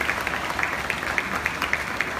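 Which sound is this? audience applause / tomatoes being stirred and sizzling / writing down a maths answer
audience applause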